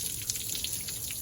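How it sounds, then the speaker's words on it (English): Water gushes steadily from the pump outlet of an International fire truck with a Detroit Diesel engine, a brief, continuous splashing rush heard up close and alone. "So we've got water coming out here."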